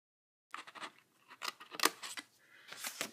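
Scissors snip through paper while a treat box is trimmed, a quick series of close crisp cuts with brief pauses between them, no talking.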